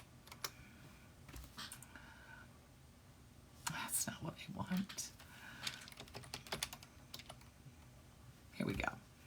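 Typing on a computer keyboard during a live stream, bursts of quick clacking keystrokes recorded close up, with someone speaking softly over and between them.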